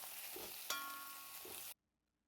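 Onions sautéing with a pinch of rock salt in a hot pan for a vegan chicken dish give off a steady, close sizzle, with a brief sharper crackle partway through before the sound cuts off abruptly.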